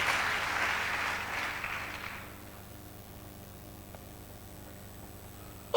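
A congregation at a church sermon applauds together in a loud, dense burst of clapping for about two seconds, then it stops abruptly and leaves a quiet room.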